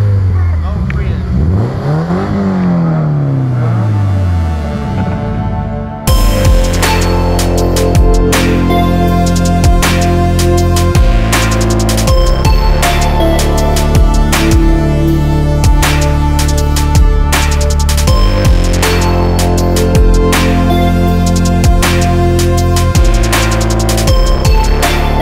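A Subaru car engine revs hard and repeatedly, loud and close, with rising and falling roars and sharp bursts after a quieter opening.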